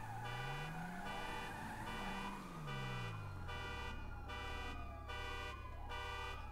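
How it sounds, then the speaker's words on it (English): A wailing emergency siren sweeping up and down in pitch, steady and fairly distant, alongside engine noise with no talking. "Those tubular sirens aren't for me."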